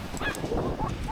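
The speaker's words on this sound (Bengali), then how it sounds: "সমুদ্রের গর্জনের সাথে পাখির কিচিরমিচির শব্দ" Honking, goose-like calls from seabirds on the Atlantic seashore in France, a few brief cries close by over steady surf and wind noise.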